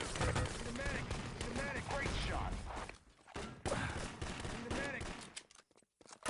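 Rapid gunfire bursts and machine-gun fire from the World War II shooter Enemy Territory, loud and dense during a competitive match, with brief gaps and talk over the shooting.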